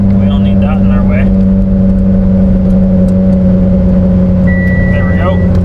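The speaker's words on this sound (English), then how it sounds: "I'll do a little first gear rip for you guys" A Mitsubishi EVO X engine, traction control off, runs hard in first gear with a loud, steady, droning note that holds for several seconds, a brief voice faintly underneath.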